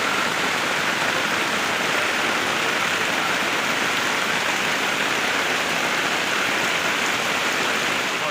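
Steady, heavy rain pours down in an even hiss that never lets up, with no voices over it.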